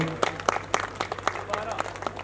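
Sparse, scattered hand claps come from the audience at an all-India poetry mushaira in Fazilka. They are uneven individual claps rather than full applause, and a voice is heard alongside them.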